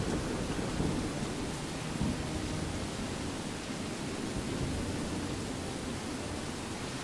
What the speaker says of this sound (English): I have a feeling the rain's going to go away really quickly, too.